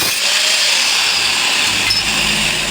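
A power tool cuts a notch into a metal solar panel clamp, a loud continuous grinding whine with a steady engine-like drone running unbroken through the whole stretch, close by and with no talking over it.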